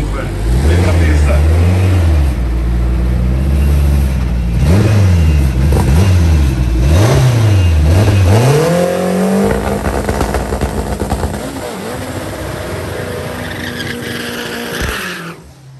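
Turbocharged rear-wheel-drive cars race on a no-prep drag strip at Tarumã, engines revving hard through repeated rising and falling pitches, then a sustained roaring pass, loud and close, with an announcer talking over it.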